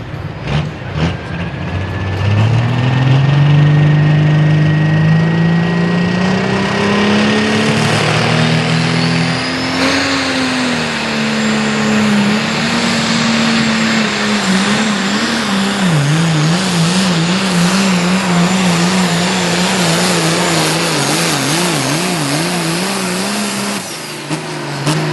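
David Reed's pulling truck Chain Smoker roars under load at a truck and tractor pull in Orange, Virginia, its engine a loud sustained bellow that climbs in pitch, wavers and strains for the whole run before cutting off at the end.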